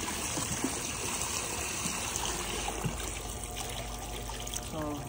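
Water trickles steadily out through a pool hose beside a swimming pool being cleared, a continuous close wash of dribbling and splashing with faint broadband hiss throughout.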